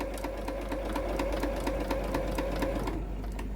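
A sewing machine stitches along the short end of a fabric nail file cover, a steady rapid mechanical whir with even needle clatter, close and alone, then slowing and stopping near the end.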